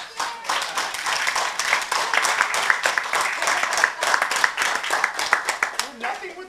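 Clapping at the close of a fan faire podcast panel, a dense run of hand claps, steady and fairly loud, with voices mixed in beneath.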